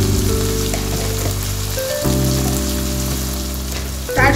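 Ground spices, Kashmiri chili powder and cumin, fry in a pan for chana masala, giving a steady sizzle with stirring scrapes, under a background hum that shifts once midway.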